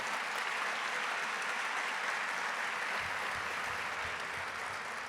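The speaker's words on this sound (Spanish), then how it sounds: "Les pido un aplauso muy especial nuevamente." A large audience at a FENALCO business awards night in Colombia breaks into sustained applause, a thick, even wash of clapping that fills the room without pause.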